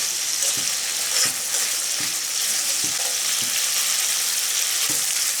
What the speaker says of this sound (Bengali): আমি মশলা খুব ভালোভাবে কষিয়ে নেব।